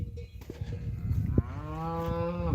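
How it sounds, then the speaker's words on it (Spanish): Cows on a farm lowing loudly for missing calves, a long sustained moo rising near the middle and carrying on to the end, with shorter calls and low rumbling before it, close and prominent with no talk. "Están estas vacas, venga a berrear y no aparecen los becerros"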